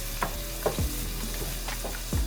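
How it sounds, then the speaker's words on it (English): Fresh or frozen mushrooms and diced onion sauté in a pan, giving a steady close sizzle with a few scraping stir strokes and thumps of the spatula against the pan; no voices. "Saute until both the onion and mushrooms are soft."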